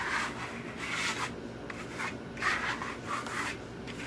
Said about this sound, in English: you're going to hear me scraping, and the scraping actually burnishes the luster stone underneath this